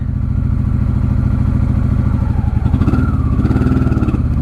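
A 1995 Honda Shadow VLX 600 motorcycle engine idles loudly and steadily up close, a rapid even putter that rises slightly in pitch partway through.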